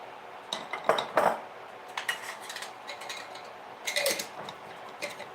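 A fork stirs a tablespoon of flour in a bowl, making irregular metallic clinks and scrapes against the bowl in short bursts, up close with no speech.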